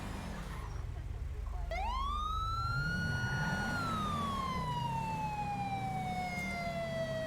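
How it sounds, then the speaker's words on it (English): A sheriff's police car siren in the FiveM game winds up and begins a long rising-and-falling wail, loud and close over engine rumble, with a faint radio-like hum beneath. "Lights and sirens when you're ready."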